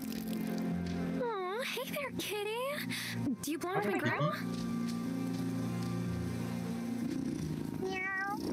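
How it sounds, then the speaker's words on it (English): A cat in the video game Wylde Flowers meows several times in rising and falling cries, with one more near the end, over a steady game music bed and spoken dialogue. "You have a cat."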